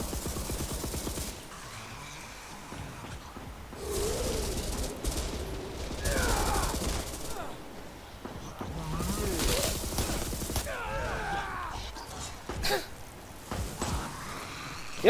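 Bursts of gunfire in the multiplayer shooter Resident Evil Re:Verse, scattered shots and short rapid volleys rising and falling over game ambience, with occasional faint voice sounds.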